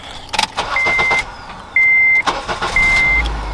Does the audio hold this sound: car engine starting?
yes